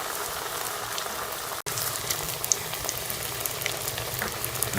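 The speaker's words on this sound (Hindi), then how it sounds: "दोनों साइड से दूसरा गोल्डन कलर आने तक जो है वो इसको फ्राई कर लेंगे" Peas and potato cutlets frying in a pan, a continuous close sizzle with scattered popping and spitting, briefly interrupted by a short cut near the start, no talking.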